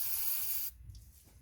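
Lubricant sprays from a can onto a Honda XR200 motorcycle engine in a short, close, bright hiss that stops abruptly, leaving a faint low rumble behind.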